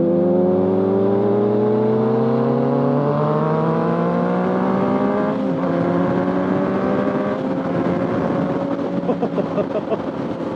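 A Yamaha FZ-09 motorcycle engine roars loud and close while riding, its pitch climbing steadily through a gear then dropping on downshifts, with a throaty, continuous drone from start to finish.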